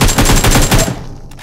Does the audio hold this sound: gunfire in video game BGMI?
yes